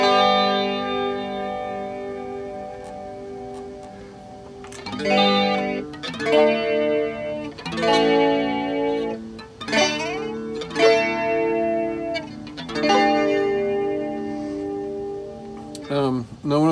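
An electric guitar runs through a First Act analog chorus pedal, playing loud chords and arpeggiated notes with a shimmering, wavering chorus tone and some grit. A quieter stretch comes first, then strummed passages swell and decay over several bars, with no talking.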